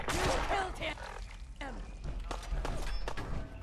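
Gunfire in Fallout 4 on modded Very Hard difficulty: a burst of sharp shots and thuds at the start, then scattered impacts, all under game noise and talk.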